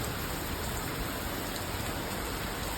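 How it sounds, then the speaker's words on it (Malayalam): Heavy rain pours down outside a garden shed in a steady, dense hiss that holds evenly throughout without pauses. "നല്ല മഴയാണ് വെളിയിൽ, കണ്ടില്ലേ, നല്ല മഴയുണ്ട്."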